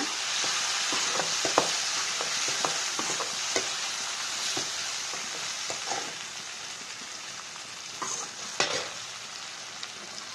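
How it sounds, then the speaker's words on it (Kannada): Onions and tomatoes frying in a pan for avalakki chitranna (poha), a steady close sizzle with scattered sharp crackles and spatula scrapes, alone without talk. "ಅಷ್ಟೇ ತನಕ ಫ್ರೈ ಮಾಡೋಣ."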